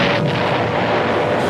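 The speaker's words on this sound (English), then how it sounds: "One scores a direct hit on the battleship Arizona." An armor-piercing bomb dropped from high altitude scores a direct hit on the battleship Arizona at Pearl Harbor, a loud, sustained roaring blast that fills the whole moment with dense rumbling noise and no voices.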